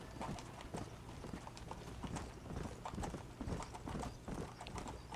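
A horse gallops in Red Dead Redemption, its hooves beating a quick, steady clip-clop rhythm close by, with a brief whinny mixed in and no talking.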